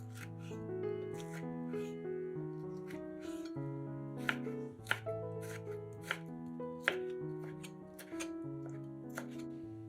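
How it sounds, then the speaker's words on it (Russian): A knife taps repeatedly on a board while dicing a medium tomato into small cubes, with faint irregular chops under louder background music. "Один помидор среднего размера нарезаем сначала пластинками, а затем маленькими кубиками."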